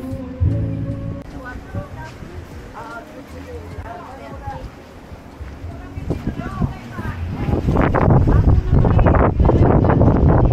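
Blustery wind and rough surf on a beach in Cebu roar louder toward the end, with people talking and laughing over the noise.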